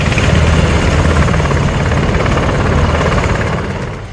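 An Apache helicopter roars overhead with a loud, steady rotor thump and engine drone, easing off slightly toward the end; no voices.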